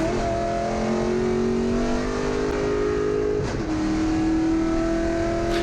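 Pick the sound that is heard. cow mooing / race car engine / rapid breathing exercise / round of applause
race car engine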